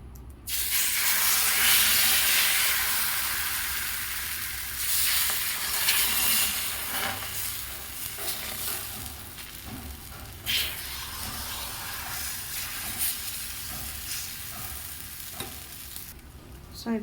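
Rice rava dosa batter sizzling on a hot oiled pan, a loud continuous frying hiss that swells and eases with occasional stirring scrapes and no talk.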